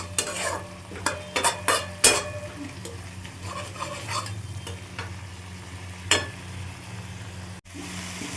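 A spice paste of tomato, ginger and garlic with whole garam masala stir-fried in a pan: bursts of close utensil scraping and clattering over a steady low sizzle, with no speech.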